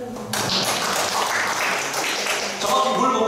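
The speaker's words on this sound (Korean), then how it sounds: "박수 한번" Brief round of clapping from a class audience at a craft beer lecture, fairly close and lively, starting abruptly and continuing for a few seconds with some voices mixed in.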